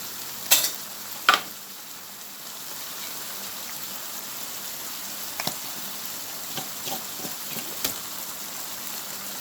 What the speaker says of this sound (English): So I just let it simmer right now, put it on simmer.